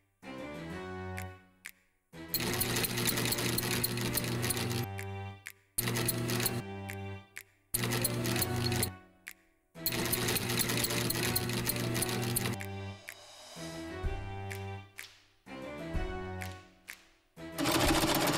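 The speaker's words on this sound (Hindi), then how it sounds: "सिलाई मशीन अपनी जगह पर है।" A sewing machine stitches fabric in repeated loud runs of rapid mechanical whirring, each a second or few long, broken by short silent pauses, with no talking.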